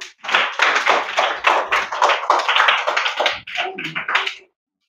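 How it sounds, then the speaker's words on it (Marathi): Children clapping together in a classroom for their classmates, a loud close burst of rapid claps that holds for about four seconds before stopping abruptly. "सर्वांसाठी एकदा टाळ्या वाजवा."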